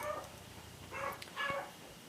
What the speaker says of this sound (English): my dog is going to be freaking out for a little bit